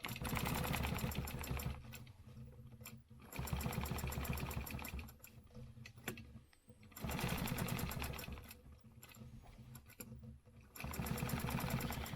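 A sewing machine stitches a stencil pattern into a quilt, running in steady, rapid bursts of several seconds each, separated by brief pauses as the stitching stops and restarts.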